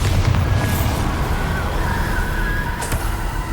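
A Bombarda spell blast in Hogwarts Legacy, a deep sustained booming roar with rumbling debris and a few sharp whooshing accents near the start and end.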